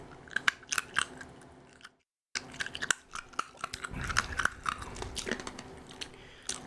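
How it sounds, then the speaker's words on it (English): Close, crisp crunching as citrusy, milky hard candies are chewed up, with repeated sharp cracks and bites, a brief silent pause, then denser grinding. "I guess I should chew up my hard candies."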